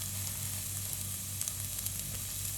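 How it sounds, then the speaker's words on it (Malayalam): Onion sautéing on a low flame in a pan, a steady soft sizzle with faint scraping from a spatula and no voices. "നമുക്ക് ജസ്റ്റ് ഒന്ന് ലോ ഫ്ലെയിമിലിട്ടിട്ട് നമുക്ക് ഇതുപോലെ ഒന്ന് വഴറ്റി കൊടുക്കണം"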